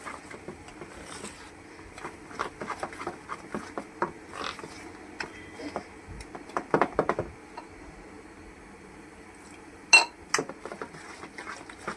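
Thick gram-flour batter is stirred with a spoon in a bowl, giving intermittent scraping and clinking taps of metal against the bowl, close and moderately loud, with a sharp clink near the end.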